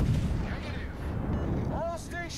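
Battleship main guns booming in a World of Warships naval battle, heavy low blasts with rumbling echoes under talking.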